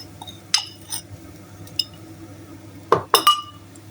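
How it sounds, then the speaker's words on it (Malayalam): A metal spoon stirs anchovies into roasted grated coconut in a pan, giving scattered bright clinks and scrapes against the pan, with a quick cluster of sharper knocks near the end. "മീനിട്ട് നമ്മൾ ഇളക്കുക."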